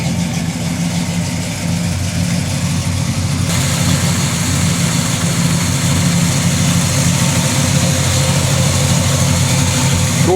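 A 1966 Chevrolet Chevelle SS 396 V8 with a four-speed transmission idles steadily up close, a loud, even low rumble that holds for the full ten seconds with no revving.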